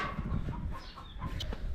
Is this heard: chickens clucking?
yes